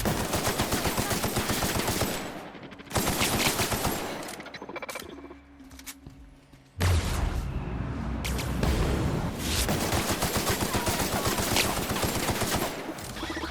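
Rapid bursts of gunfire from The Outer Worlds (Spacers Choice Edition), with dense repeated shots running almost continuously and a short lull in the middle before heavy firing resumes, loud and close.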